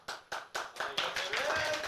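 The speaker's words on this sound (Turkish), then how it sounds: "Kendinizi bir alkışlayın lütfen." A studio audience applauding on a Turkish TV variety show, with a few separate claps that quickly build into continuous clapping, close and fairly loud, with some voices mixed in.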